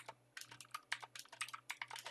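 Quick bursts of typing on a PC computer keyboard, light clicking keystrokes in uneven clusters, close and fairly quiet with no talking.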